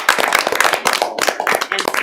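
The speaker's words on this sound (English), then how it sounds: "I want to give all of you a round of applause" Applause at a town board of aldermen meeting, a small group clapping steadily in an indoor room, close and fairly loud, a short burst of scattered hand claps without speech.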